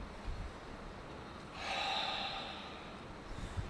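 One slow, deep breath drawn in, soft and close, rising in the middle and then fading back into quiet room hush.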